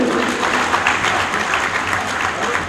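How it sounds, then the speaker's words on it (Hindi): Loud, steady applause from a large audience fills the hall at a community gathering in Gujarat honoring guests, sustained without a break for nearly three seconds. "जोरदार तालियों से अभिनंदन"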